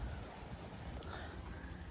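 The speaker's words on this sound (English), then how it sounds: "Don't think you can see the rain coming down. You can probably hear it." Steady rain comes down outside during a storm as snow and ice melt, a soft continuous hiss and patter heard alone at low level.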